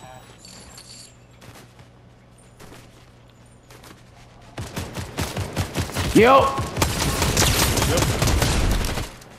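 Rapid bursts of gunfire in a Fortnite match, starting sparse and quiet, then swelling into loud, dense automatic fire that fills the last half, with a brief spoken word from a player.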